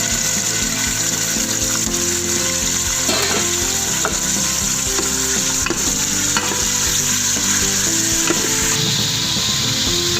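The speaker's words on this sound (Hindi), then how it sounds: "ये देखिए हमारा गोश्त फ्राई हो रहा है।" Mutton sizzles and fries in oil inside a pressure cooker, a loud, steady crackling hiss with occasional stirring scrapes and clinks, and no talking.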